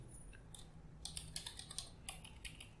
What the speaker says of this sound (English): we'll continue typing